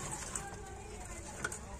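Pigeons of the gola breed give soft, faint coos within a quiet room tone, a couple of brief calls standing out over low background murmur.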